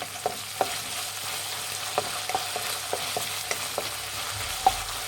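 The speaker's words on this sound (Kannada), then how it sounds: "1 ಟೇಬಲ್ ಸ್ಪೂನ್ ಶುಂಠಿ ಬೆಳ್ಳುಳ್ಳಿ ಪೇಸ್ಟ್ ಹಾಕ್ಕೊತಾ ಇದ್ದೀನಿ. ಇದು ಅಷ್ಟೇ ಫ್ರೈ ಮಾಡಿ." Ginger garlic paste frying in a pan, with a constant sizzle under light, irregular spoon taps and scrapes against the pan.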